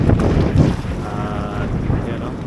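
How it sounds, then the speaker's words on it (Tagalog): Strong wind at Cabuyao fish port in Laguna buffets the microphone with low rumbling gusts, steady and close, while a faint tonal hum drifts underneath. "pag ganitong oras, mahangin."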